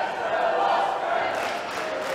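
Wrestling arena crowd at an Internet Championship match between Walter and Will Ospreay, a steady dense roar of many voices reacting in shock after a kickout, loud and sustained throughout.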